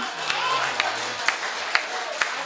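Audience applause and cheering at a live poetry recital on stage, a crowd's clapping heard moderately loud with a few sharp claps standing out, while a voice speaks over it.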